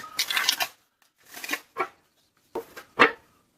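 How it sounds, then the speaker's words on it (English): Tarot cards being shuffled by hand in several short riffling bursts separated by brief pauses, close and fairly quiet with no voice. "as I shuffle these cards"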